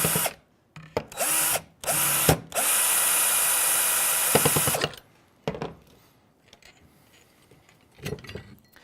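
A cordless power driver undoes the two bracket screws holding a motor's field assembly, in loud whirring bursts: several short runs, then a longer sustained spin, followed by quieter clicks and handling of parts.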